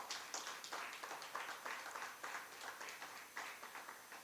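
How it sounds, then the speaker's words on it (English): An audience at the JaRIA Honour Awards 2023 launch gives the awardees a round of applause: steady, even clapping from a crowd, faint and somewhat distant, holding at a constant level the whole time. "Give them a round of applause for me."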